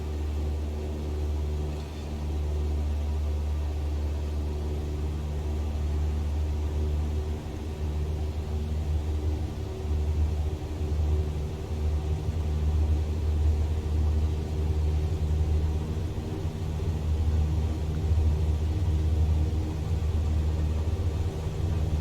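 Steady engine drone and low rumble of a single-engine aircraft's takeoff roll in Microsoft Flight Simulator, departing Santa Fe, continuous and fairly loud throughout with no talking.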